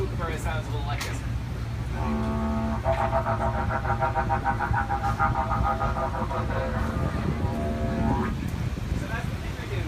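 A didgeridoo drones low and close as the player's voice builds a bright, warbling, chattering layer through the middle, imitating the call of a kookaburra, an Australian bird.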